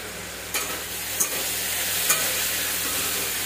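Jackfruit juice fritters (bora) frying in oil, a steady soft sizzle throughout with a few brief clinks or stirring taps, close and fairly quiet.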